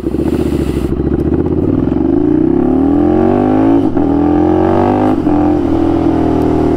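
A motorcycle accelerates hard on a training course, its engine note climbing steadily through the revs, loud and close, with short dips at gear changes around the middle and end.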